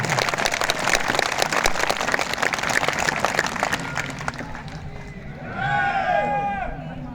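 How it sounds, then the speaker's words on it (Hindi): A rally crowd in Srinagar claps steadily and loudly for about four seconds, then the clapping thins out and a faint whistle-like sweep rises near the end. "आप इतनी हल्की तालियां अपने अर्धसैनिक बलों को जा रहे हैं, जोरदार बजाओ"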